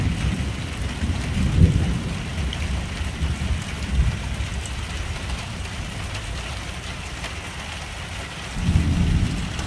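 Heavy rain during a thunderstorm, a steady hiss of downpour with low rumbles of thunder swelling near the start and again at the end, and no voices.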